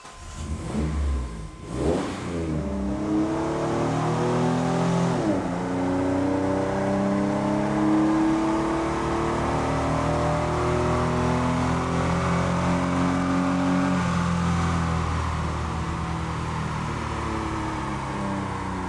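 A late-model Chevy Astro van engine revs hard on a dynamometer and climbs steadily in pitch, drops briefly at a gear shift, then winds up again in a long sustained roar.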